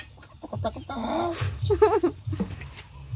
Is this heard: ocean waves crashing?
no